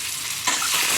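Boiled eggs drop into hot oil coloured with turmeric, and a steady close sizzle swells suddenly louder midway and stays loud.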